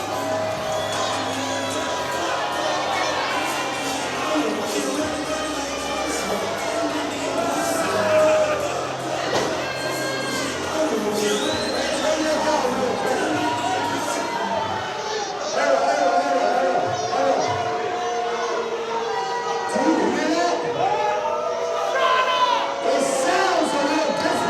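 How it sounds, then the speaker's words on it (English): A wrestling crowd at a Bash at the Brew show loudly boos a wrestler holding a microphone, a sustained roar of jeers and shouts running under continuous announcer commentary. "If he could speak over the boos of our crowd here."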